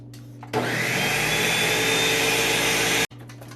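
A blender whirs loudly and steadily for about two and a half seconds, blending homemade copycat Nutella hazelnut spread loosened with half and half, then cuts off abruptly, with quiet room noise before and after.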